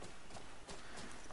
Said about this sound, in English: Oh, it is my horse.